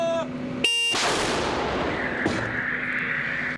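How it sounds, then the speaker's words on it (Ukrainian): A single heavy artillery blast from a 2S7 Pion self-propelled howitzer booms close by, followed by a lingering rumble and a faint high whistle fading overhead. "Після кожного пострілу у небі ще якийсь час чутно свист."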